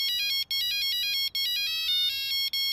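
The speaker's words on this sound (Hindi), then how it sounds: "हमें देख के फोन कान पर लगाते हो और फोन भी तभी बजता है" A mobile phone ringtone plays loud and close, a repeating electronic melody with brief pauses between phrases.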